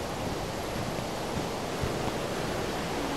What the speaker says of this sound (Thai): เสียงน้ำตกตาดไก่เสียงดังร้องสนั่นเลยนะครับผม